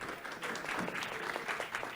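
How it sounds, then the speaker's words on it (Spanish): Applause from an audience at an expert panel on the future of water in the Dominican Republic, a steady, moderately distant patter of many hands clapping for two seconds with no talk over it. "Un aplauso para ella"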